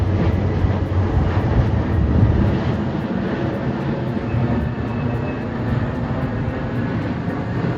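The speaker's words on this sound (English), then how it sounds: "Within 7 minutes, I'm gonna hear airplane noise that sounds just like this." Airplane passing overhead in Northern Virginia, a loud steady engine roar with broad rumbling noise that holds for several seconds before cutting off abruptly.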